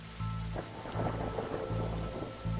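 Steady rain falls in The Darkside Detective, a continuous hiss of drops on a surface with low rumbling underneath, heard alone with no talk.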